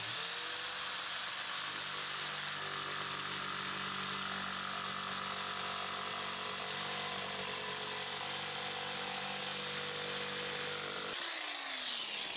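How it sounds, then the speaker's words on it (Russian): An electric jigsaw, Deko or Makita, buzzes continuously through a long straight cut, a steady droning rasp that stops abruptly near the end. "Попробуем сделать прямые пилы обоими лобзиками."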